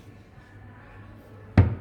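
In a furniture store showroom, a kitchen cabinet drawer shuts with a single sharp, close thud near the end, after a stretch of quiet room hum.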